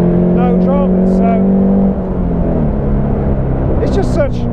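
A Caterham 310 S with its small engine pulling in third gear on a road, a loud steady drone that drops slightly in pitch partway through, with bursts of someone talking over it.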